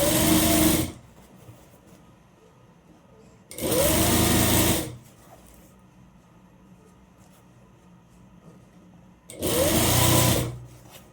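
A sewing machine top-stitching a folded fabric edge runs in three loud, close bursts of rapid needle clatter separated by quiet pauses.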